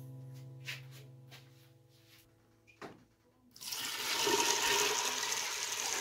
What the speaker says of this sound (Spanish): Le voy a agregar el agua.